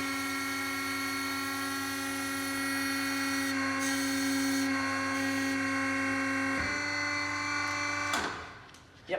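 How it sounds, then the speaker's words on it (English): Piston extruder machine running as its piston head pushes a sample: a steady electric motor whine with a strong tonal hum holds for about eight seconds, shifts pitch slightly midway, then cuts off into a brief noisy tail. "So now we turn on the machine like this."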